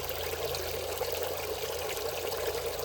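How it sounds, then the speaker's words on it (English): Water splashes steadily from a DIY pond filter into a pond as a little bubbling waterfall, a continuous close, loud pouring rush with no talk. "It's creating bubbles. It's a little waterfall effect."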